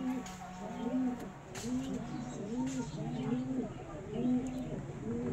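Dasu line pigeons kept at home coo in a repeated rhythmic pattern. The calls are close and fairly soft over a low background hum.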